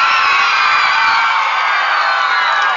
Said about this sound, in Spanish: Aplauso número 4.